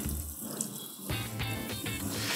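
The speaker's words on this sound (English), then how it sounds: "We're gonna rinse this bad boy off again." Running tap water pours steadily over a vintage Zilco cymbal as it is rinsed in a sink, a continuous close splashing wash that shifts in tone as the metal moves under the stream.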